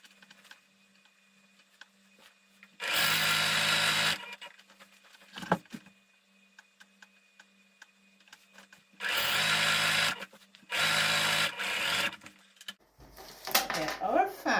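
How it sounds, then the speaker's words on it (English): A sewing machine stitches a double hem on fabric for a cushion cover in three loud, close bursts of steady whirring, separated by quiet pauses with faint handling noises. "now I am going to go ahead and I'm going to stitch the double hem"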